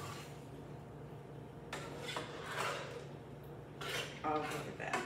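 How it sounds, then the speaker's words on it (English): Drained canned peaches are stirred continuously in a skillet, giving soft intermittent scraping and rubbing bursts over a low steady hum. "we are going to stir these continuously"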